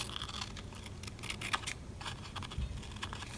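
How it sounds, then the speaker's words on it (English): Scissors cut around the shape of a paper animal corner bookmark, giving soft, irregular snips and rustles at low volume, close up, with no talk. "Now take your scissors, turn it round"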